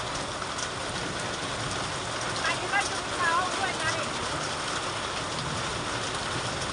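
Steady hail and rain fall continuously in a hilly Uttarakhand village, with a dense, even hiss of drops, while a voice briefly speaks in the middle.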